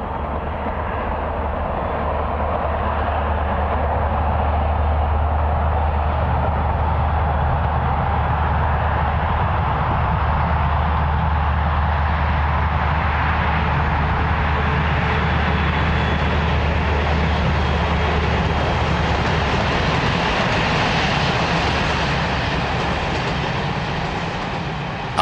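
A Franco-Italian passenger trainset runs on the Alpine line between Marseille, Lus-la-Croix-Haute and Grenoble, giving a loud, steady rolling rumble with rail noise that holds for the whole stretch and swells slightly near the end.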